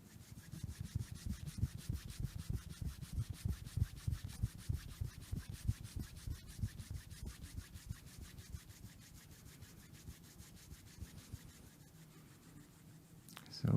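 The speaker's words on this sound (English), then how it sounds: "We stretch them out and then we rub them slowly." Palms rub together slowly in a steady back-and-forth rhythm, a soft close swishing friction that repeats many times before easing off near the end, with no voices over it.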